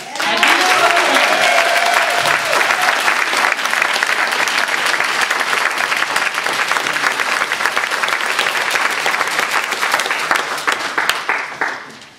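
A large audience applauds loudly at a Toastmasters district conference, sustained dense clapping for about eleven seconds that tapers off near the end.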